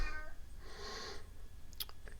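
A cat gives a brief, faint cry at the start, followed by soft rustling and a couple of short scratchy bursts near the end, all quiet and with no one speaking.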